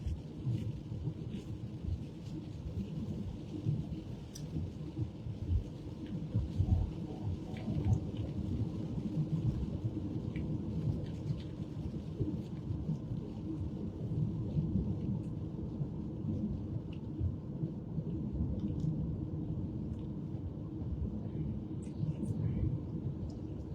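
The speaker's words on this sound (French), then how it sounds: "Il pleut beaucoup ici. Enfin, il y a une pluie énorme." Heavy rain pours steadily through a thunderstorm in Flanders, a dense continuous hiss and patter with low rumbling underneath, loud and close throughout with no break.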